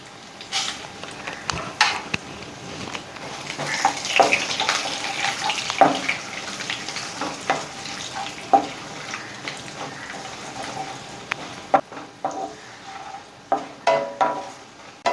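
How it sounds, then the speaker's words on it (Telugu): Sesame seeds roast in a hot pan with dried red chillies for a Bhringraj pickle, giving a steady close crackle and sizzle broken by scattered sharp pops and light scraping, with no talking. "నువ్వులు వేస్తున్నాను."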